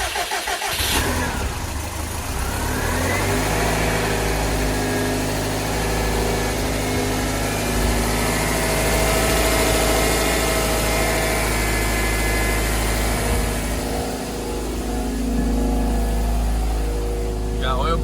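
A Subaru EJ207 boxer engine built out to a 2.1-liter stroker, in a 20th Anniversary GRB STI, fires up for its first start and settles into a loud, steady idle close by, with a voice speaking over the running engine.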